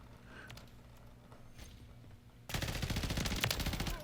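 Automated turret in a squad shooter video game opens fire halfway through, a loud sustained burst of rapid gunfire after a quiet stretch of faint game ambience.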